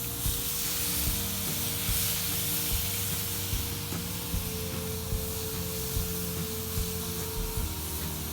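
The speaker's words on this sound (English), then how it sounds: "Here's the sizzle." Loud, steady sizzle of ribeye steak searing on a hot grill, a dense crackling hiss that continues without a break.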